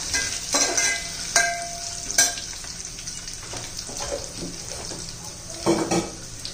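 Cinnamon stick, black peppercorns and cloves frying in oil for spiced rice, a steady close sizzle with scraping stirs and a few sharp utensil clinks, no voices.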